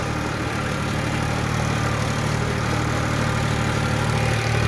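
A tractor engine drones steadily while working a field, a loud, continuous low rumble with no breaks and no voices over it.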